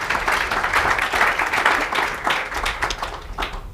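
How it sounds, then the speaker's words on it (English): A legislative summit audience claps for a moderator and panelists, a fairly close, lively round of applause with distinct individual claps that thins out toward the end. "let's give Amy a round of applause and all of our panelists"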